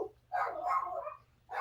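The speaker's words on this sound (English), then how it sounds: "And my dogs are barking" Dogs bark indoors in two bursts, the first longer and rough, the second short, heard fairly close with nobody talking.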